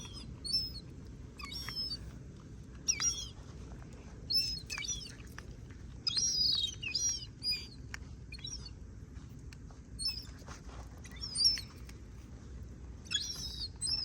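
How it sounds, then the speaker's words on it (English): A seagull chick gives repeated thin, high chirps and peeps in short bursts, fairly faint, over a steady low background rumble with no talking. "here's the seagull chick"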